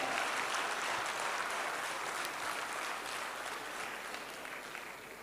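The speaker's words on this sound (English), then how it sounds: "Please give once again a very round applause for her." An audience at a Rotary district conference gives a speaker a steady round of applause, a dense wash of clapping that gradually fades.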